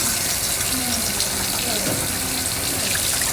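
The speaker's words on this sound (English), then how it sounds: "I'm going to rinse all parts of my hands and wrists." Tap water running into a sink while hands are rinsed, a steady close hiss and gush throughout with faint splashing changes, no break in the flow.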